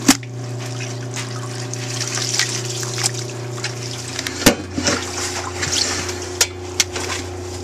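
Hot water trickles and splashes steadily as soaked cloth diapers are transferred into a washing machine, with a low machine hum underneath and a few sharp knocks and clunks.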